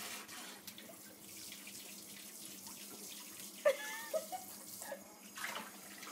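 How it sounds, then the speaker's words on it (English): A shower runs water over a dog in a bathtub, a steady soft hiss with a few brief splashes and louder bursts toward the end, fairly quiet overall. "You can turn on the shower nozzle."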